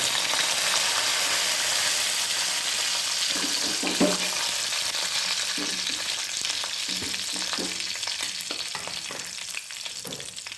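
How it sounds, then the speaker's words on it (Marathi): Cumin, chilli and curry leaves sizzle and crackle in hot oil for a dal tadka. The frying hiss is loud and continuous, with scattered pops and stirring clicks that grow sparser toward the end. "जिरं टाकूया. मिरची टाकूया. कढीपत्ता,"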